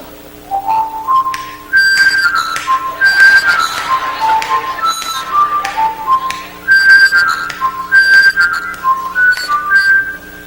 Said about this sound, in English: Also does another kind of whistle.